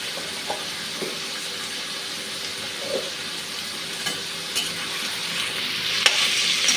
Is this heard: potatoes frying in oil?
yes